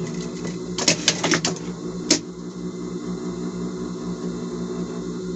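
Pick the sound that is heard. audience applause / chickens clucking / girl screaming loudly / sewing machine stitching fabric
sewing machine stitching fabric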